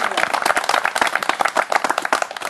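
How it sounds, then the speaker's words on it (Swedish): Applause for a bronze medallist at a Swedish field shooting championship shoot-off, a brisk, dense crackle of clapping hands outdoors, loud and steady for the whole stretch. "En stor applåd."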